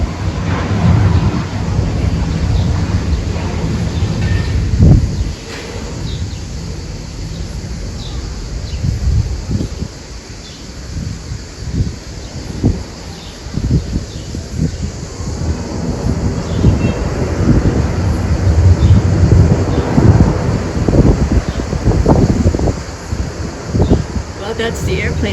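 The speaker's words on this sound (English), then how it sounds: "That's the airplane landing as seen from my little balcony here" Airplane landing at Skiathos airport, heard from a balcony in town: a loud, sustained roar with wind-like rumble that swells, dips around the middle, then builds again, with bursts of crackle and brief talk nearby.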